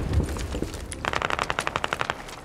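Automatic gunfire in the video game Squad: a short lull, then a rapid, loud string of evenly spaced shots in a steady rhythm, with no talking.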